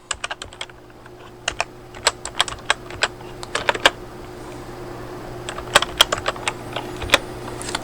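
Quick bursts of clicking keys on a computer keyboard as a folder name is entered, irregular clusters of close, crisp taps separated by short pauses, with no one talking.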